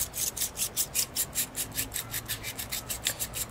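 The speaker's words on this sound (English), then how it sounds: "You put it on your drill and you spin it and work it" Rapid, rhythmic rasping of a drill-spun hone working inside a brake cylinder, a steady back-and-forth grinding scrape repeating several times per second, close up.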